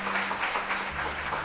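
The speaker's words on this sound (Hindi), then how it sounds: "तालियां बजाओ" Audience applause at a weekly spiritual discourse gathering, a dense, even wash of many hands clapping heard from a distance, steady with no voices over it.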